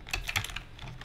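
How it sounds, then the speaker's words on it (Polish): Quick bursts of keystrokes on a computer keyboard close to the microphone, a few clustered clicks followed by softer, scattered tapping, with no talking. "u mnie teraz bardziej na odcinkach słychać klawiaturę, no dlatego, że mam blisko mikrofon"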